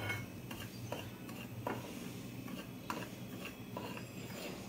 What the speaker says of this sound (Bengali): এবার একসঙ্গে আমি এটা মিশিয়ে নিচ্ছি।